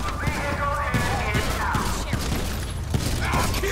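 Gunfire in the LSPDFR police mod for Grand Theft Auto V near Paleto Bay, a burst of repeated shots cracking at intervals over busy game ambience and engine rumble, with excited talk mixed in.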